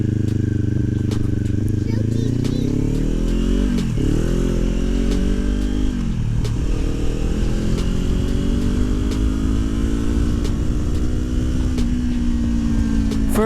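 A Kawasaki Ninja 400 fitted with an Akrapovič exhaust is ridden, its loud, steady engine note rising in pitch and dipping briefly at gear changes, with constant wind rush throughout.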